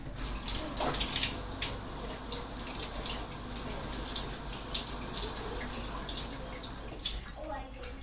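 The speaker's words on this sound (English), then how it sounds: "we're going to put that under some water" Tap water runs steadily over a softened PVC sword piece, a continuous splashing gush with some drips, heard fairly close with no one talking.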